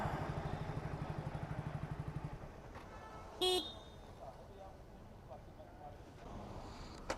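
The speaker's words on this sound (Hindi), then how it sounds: "भाई मैं हॉर्न भी बजा रहा हूँ इतनी देर से" A ride-hailing driver in India gives one short, bright honk of the horn over a rumbling idling engine, a faint recording with some street noise.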